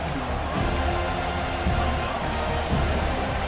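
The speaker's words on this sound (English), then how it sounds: "This crowd trying to do its part to get inside the kicker's head" Steady roar of a stadium crowd in a college football video game, a dense, continuous wash of cheering and murmur with slight swells, heard without distinct talk.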